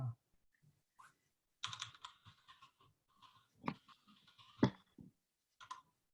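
Keys on a computer keyboard are typed in short, irregular bursts of nearby clicks, with pauses between them and no one speaking.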